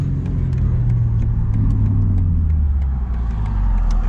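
A 2022 BMW M4 with a six-speed manual gearbox roars loudly and close, its engine holding a steady, throaty drone that rises and falls slightly while the car is driven hard.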